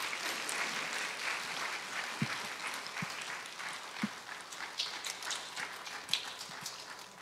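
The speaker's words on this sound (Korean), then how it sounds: "우리 권사님 나오실 때 큰 박수로 환영해 주시면 감사하겠습니다" Applause from a church congregation welcoming a deaconess to the front, a steady, dense wash of clapping that carries on without a break, with a few sharper isolated claps standing out.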